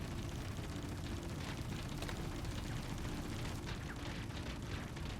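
Ship weapons in Star Citizen, ballistic cannons on an Ares Ion or Inferno fighter, pound a target in a continuous, dense barrage of firing that stays loud and steady throughout, with no pauses or talk.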